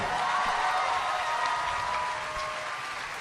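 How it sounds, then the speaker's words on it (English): A panel audience at the Rooster Teeth RTX 2015 convention gives a sustained round of applause, a dense steady wash of clapping that fills the room and tapers slightly toward the end, with no talk over it. "Let's give another round of applause to these guys"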